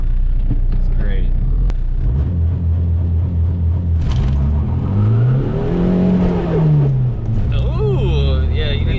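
A tuned, built MKIV TDI diesel car launches and accelerates hard, its engine note rising in a loud, steady drone that climbs through the gears, with people talking over it.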